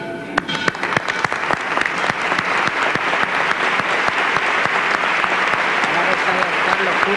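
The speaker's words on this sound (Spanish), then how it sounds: "Ahí tienen un aplauso, una ovación." Loud, sustained applause and ovation from a large crowd at a canonical coronation ceremony in El Cerro, Seville, with sharp claps crackling through a dense wash of cheering that holds steady throughout.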